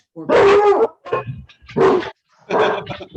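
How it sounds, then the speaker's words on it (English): Several dogs bark together in loud, close bursts with short gaps between them, and a voice briefly speaks among the barks. "I apologize if you hear a chorus of dogs in the background"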